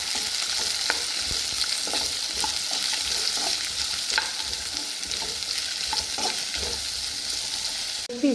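Capsicum fries in oil in a pan with a steady close sizzle, and scattered light scrapes and clicks of stirring run throughout.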